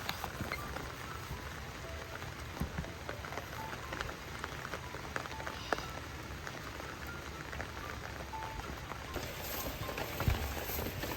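Sudden steady rain patters on a surface in a dense, even hiss where goats are caught out in it, with occasional louder drops and faint background noise.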